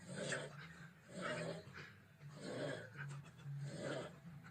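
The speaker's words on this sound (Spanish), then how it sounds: "No, este es un tío roncando." A man snores close by in a steady rhythm, four loud rasping breaths about a second apart, with no talking.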